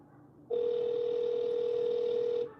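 A steady electronic ringback tone of an outgoing phone call holds for about two seconds at clear, even loudness, preceded by a quiet room hum.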